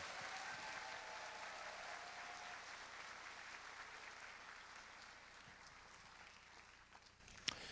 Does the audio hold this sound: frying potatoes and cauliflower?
no